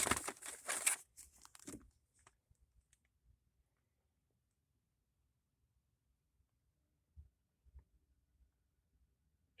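Plastic bubble packaging crinkles and crackles loudly up close as a never-opened 1995 handheld Jeopardy game is taken out, a dense burst for about two seconds followed by a few faint scattered rustles and taps.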